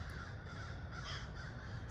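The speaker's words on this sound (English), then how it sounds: "crows are going crazy." Several crows caw repeatedly in the distance outdoors, a faint but clear series of harsh calls over a steady low background.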